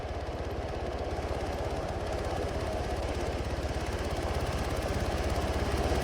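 A helicopter in the video game Arma 3 drones steadily with a continuous rotor chop and engine whine, loud and close throughout, with no voices over it.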